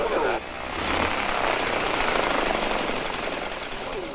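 T-41 airplane engine roaring nearby, a loud broadband propeller drone that steps up early and then holds steady, with voices faintly under it.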